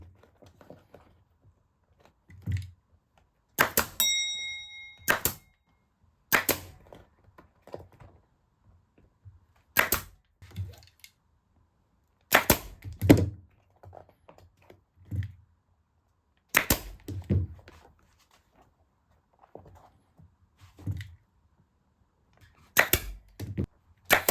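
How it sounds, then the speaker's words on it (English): A pneumatic stapler fires staples one at a time into a One Gripper seat cover stretched over a dirt bike seat, giving sharp, loud cracks spaced a few seconds apart with a brief whining hiss in between. "And I'm pulling the cover tight as I move along and then shooting in a few staples."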